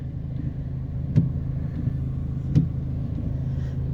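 Street traffic in Baguio City on a rainy afternoon, a low steady rumble of car engines idling and creeping past, with two brief sharp knocks or clicks standing out.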